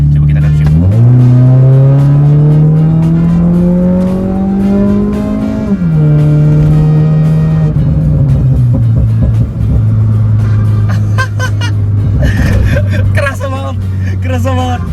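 A remapped 1500cc Mazda 2 Skyactiv engine revs loudly and steadily climbs in pitch, then drops sharply around a downshift and settles into a lower drone, with talking over it.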